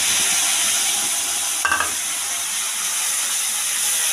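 Garlic-ginger paste with salt and turmeric hits hot oil for a boal fish curry, giving a steady bright hiss with one short sputtering burst midway.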